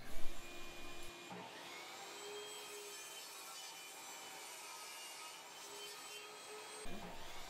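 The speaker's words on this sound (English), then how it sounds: "I can now raise the blade and make my first cut." A table saw fitted with a shop-made 45-degree crosscut sled slices through a wooden board, its steady whining cut running loud and continuous for several seconds between the louder motor surges at the start and end.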